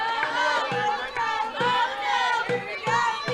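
Crowd chatter fills the stands at a softball game, a steady murmur of many voices with nearer voices rising over it, heard together with speech.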